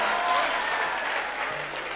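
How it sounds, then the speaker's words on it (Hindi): Audience at a Hindi comic poetry gathering clapping with both hands, a dense, steady wash of applause that holds at full loudness for the whole stretch with no talk over it. "जरा दोनों हाथ खड़े करके ताली बजाओ"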